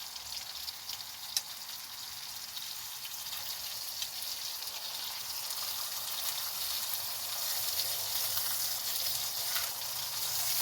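Food sizzles in a hot metal pan at an outdoor tent homestead, a steady faint frying hiss with occasional pops, no talking.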